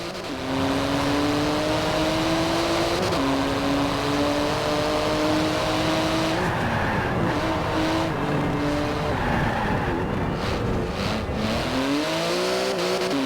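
Twin-turbo 3.8-litre flat-six of a 700-horsepower carbon-fibre car in Forza Horizon 4, droning loud and steady with rising and falling engine tones as it shifts through gears, with tire squeal near the end.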